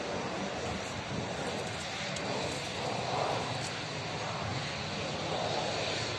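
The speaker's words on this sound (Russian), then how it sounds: "Так, опять взлет самолета." A steady, heavy roar of a Qatar Airways airplane's engines as the plane takes off, swelling slightly, with some wind noise over it.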